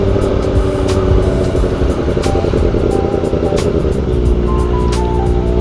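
Kawasaki ZX-4RR motorcycle engine while riding in rain, a loud continuous high-revving inline-four roar with wind rush, steady throughout with brief rising pitch changes and no talk.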